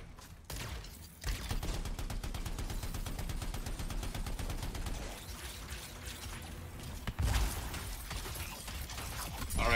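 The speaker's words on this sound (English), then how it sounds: "there's the guy with four LMGs attached to his weapon for super fast fire" Super-fast gunfire from a weapon with four LMGs attached, in the Anthem video game, crackles as a dense, loud continuous stream among other action sounds, briefly dropping before resuming.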